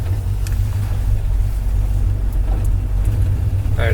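A 1972 GMC Sierra Grande pickup's engine rumbles low and steady from inside the cab, with road noise and a few faint rattles, no talking.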